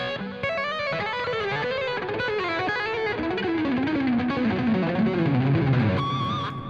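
Electric guitar played legato through a driven, overdriven tone, with articulate notes popping in fast connected runs; a continuous, moderately loud line with a brighter sustained phrase near the end, no talking.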